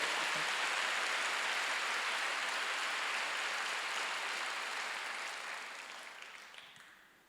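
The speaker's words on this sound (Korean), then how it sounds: "박수 좀 세게 쳐봐요" Church congregation at a Sunday worship service clapping hard: a dense, even wash of applause holding steady for several seconds before gradually fading out, with no voices over it.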